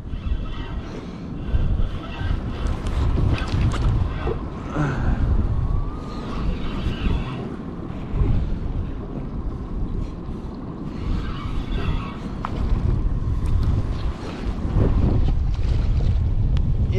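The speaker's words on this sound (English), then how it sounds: "This wind is picking up." Strong wind buffeting a fishing boat offshore while lingcod fishing: loud, continuous roaring gusts and microphone rumble that swell and ease throughout, with faint engine and water noise underneath and no voices.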